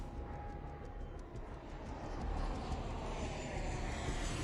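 A fixed-wing passenger airplane in flight produces a steady, broad engine roar that fills the background evenly, faint and unbroken with no voices on top.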